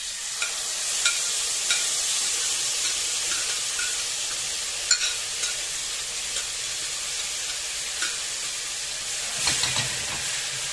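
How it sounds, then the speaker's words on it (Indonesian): Ground spice paste stir-fried in hot oil, a bright continuous sizzle with intermittent clicks and scrapes of the spatula against the pan, close up with no talk. "Ini bumbu yang sudah dihaluskan tadi. Kita gongso ya"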